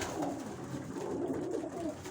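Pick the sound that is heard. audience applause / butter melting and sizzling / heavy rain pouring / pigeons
pigeons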